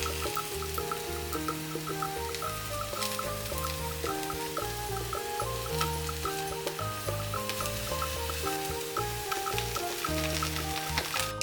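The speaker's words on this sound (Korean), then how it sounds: "불을 약불로 줄이고 팽이버섯을 넓게 펴서 올려주세요." Enoki mushrooms and sliced green onion fry in olive oil in a preheated pan over low heat, giving a soft, continuous sizzle beneath steady background music.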